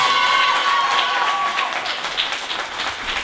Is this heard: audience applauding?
yes